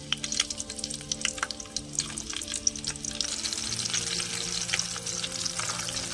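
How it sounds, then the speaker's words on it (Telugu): Tempering spices crackle and sizzle in hot oil for mango pulihora, close and steady with frequent small pops, while a faint tonal hum runs underneath. "తాలింపులు వేసుకుందాం"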